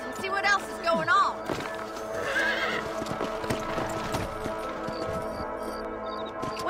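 Horses in the Red Dead Redemption video game trot with rhythmic clip-clop hoofbeats and let out a couple of whinnies near the start, with game music and ambience running underneath.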